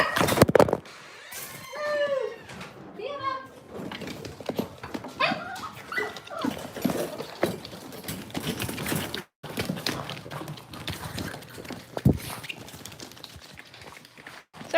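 Cavalier King Charles spaniel puppies and dogs yip, whine and whimper in short bursts across a busy indoor room, with clattering thumps from a knocked-over phone and shifting background noise.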